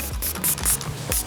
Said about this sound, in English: let's lock everything in place with our Hold It Still setting spray